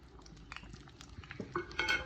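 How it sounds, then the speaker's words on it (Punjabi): Semolina is added to hot ghee and stirred with a spoon, giving faint scraping and light sizzling with a few soft clinks of metal against the pan. "ਘੇ ਜਿਹੜਾ ਆਪਣਾ ਗਰਮ ਹੋ ਗਿਆ ਤੇ ਆ ਸੂਜੀ ਜਿਹੜੀ ਪਾ ਦੇਣੀ"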